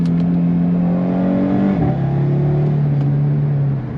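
An Audi RS3's turbocharged five-cylinder engine revs hard with a loud, close exhaust roar, then drops to a steady lower drone after a gear change.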